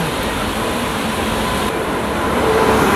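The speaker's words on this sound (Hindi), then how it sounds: "और फाइनली हमारी ट्रेन आ चुकी है।" Hemkund Express train pulling into an Indian railway station in the rain, a steady broad rumble and hiss of rail noise and rainfall throughout, growing slightly louder near the end.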